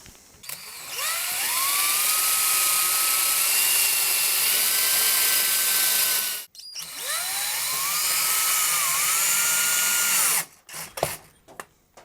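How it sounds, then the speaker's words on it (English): A small power drill whirs loudly up close in two long bursts, drilling a small hole in a scratch-built electric guitar's wooden body, its whine rising in pitch, separated by a brief pause and ending with clicks. "I was drilling that hole to put this screw in right here"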